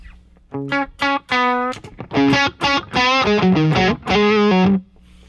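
Electric guitar run through a Friedman Dirty Shirley overdrive pedal, playing loud, fat, driven chords and single notes in short bursts and then longer sustained phrases, with no voices.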